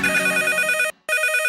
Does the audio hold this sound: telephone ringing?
yes